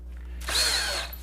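A power drill whirs into a single screw fastening a pedal unit to a pedalboard, a short close burst of about three quarters of a second over a low steady hum.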